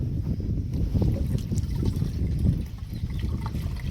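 A container of pesticide and water mixture is emptied into a farm sprayer pump tank, giving a steady, fairly quiet splashing pour with no talk.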